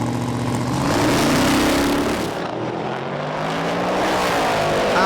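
Street Eliminator drag racing vehicles launch side by side down the strip, a loud, sustained engine roar with rising pitch sweeps as they accelerate, dipping briefly midway before surging again, with no talk over it.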